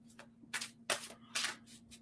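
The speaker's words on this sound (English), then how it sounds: "I'll shuffle first." A deck of playing cards is shuffled during a live psychic card reading, giving several quick, papery riffling bursts at close range with short pauses between them and a faint steady hum underneath.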